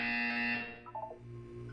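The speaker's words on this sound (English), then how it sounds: "You will hear a buzzer." A harsh electronic buzzer from the Portal 2 video game test chamber, one loud sustained droning tone that fades out after about half a second, leaving a low hum.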